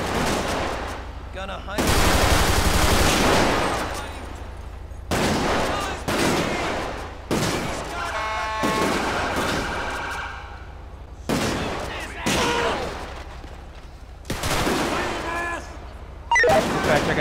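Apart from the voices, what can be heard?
gunfire in a video game (GTA V LSPDFR)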